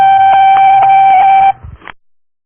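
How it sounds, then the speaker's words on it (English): A long, steady electronic answering-machine tone holds for about a second and a half at close range, then stops abruptly with a brief rustle and clatter before falling silent. "Perhaps you'd like to leave a message at the end of the beep, please."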